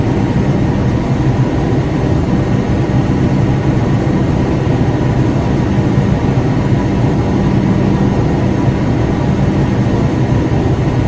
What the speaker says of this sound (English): A Wakefield bound express train via the Lexington Avenue line.